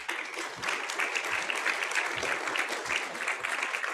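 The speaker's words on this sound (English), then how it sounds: "let's give a round of applause" Steady audience applause at a professional association panel session, a dense wash of clapping at moderate volume with a few heavier claps, holding evenly without speech.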